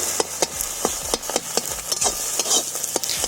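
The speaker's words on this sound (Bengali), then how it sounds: "এরপর কড়াইতে তেল দিয়ে ডিমগুলো দিয়ে খুব ভালো মতো ঝুরো ঝুরো করে ভেজে নামিয়ে নেব।" Eggs scramble in hot oil in a wok under a continuous sizzle, punctuated by a fast, irregular series of sharp spatula scrapes and knocks against the metal, close and loud.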